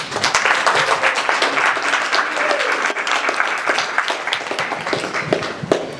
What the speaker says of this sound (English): Round of applause for you for being here today